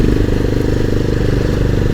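Motorcycle engine, a Pulsar 220F, running on a hill road in Uttarakhand near Nainital, with a loud, close, steady low thrum and rapid rhythmic firing pulses throughout.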